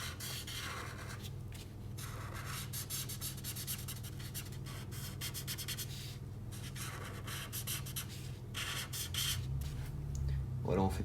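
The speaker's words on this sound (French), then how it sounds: "On va venir colorier tout le contour." A cool grey 1 alcohol marker squeaks and scratches in quick, repeated strokes across paper while outlining a Fortnite pickaxe-hammer drawing. The strokes are close and fairly faint, with a low hum underneath.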